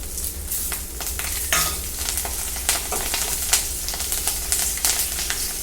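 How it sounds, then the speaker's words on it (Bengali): Black cumin seeds and four green chillies sizzle in leftover fish-frying oil, a dense, steady crackling hiss with light stirring clicks, close and moderately loud, with no speech. "এই মাছের তেলে আমি কালো জিরা আর কাঁচা লঙ্কা ফোড়ন দিয়ে দেবো"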